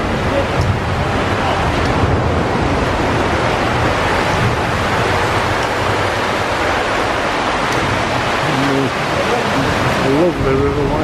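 Water rushes steadily over a river weir near Dolphinholme beneath a motorway bridge. The broad, continuous roar runs throughout with faint road traffic behind it, and a brief voice is heard near the end.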